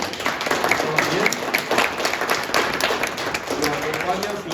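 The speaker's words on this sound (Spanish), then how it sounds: "darle un fuerte aplauso a Daniel." An audience in Mexico applauds a missionary at a storytelling workshop, steady hand clapping that fades slightly midway, with voices talking underneath.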